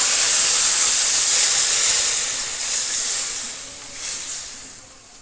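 Water poured into a hot pan of boiled potatoes for Bengali kofta curry raises a loud, bright steam hiss that fades and then swells again in waves, with no talk over it.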